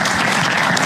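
Dense audience applause fills the whole moment, a steady wash of many hands clapping at close range, loud and unbroken, with no voices on top, at the close of a football talk show segment.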